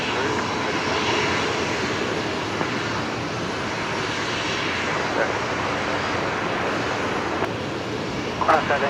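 Velocity 54, an airliner that just came in from Port Vila, arriving on runway 01 right at Brisbane Airport, with a loud, steady jet engine roar that fills the scene throughout, heard from nearby.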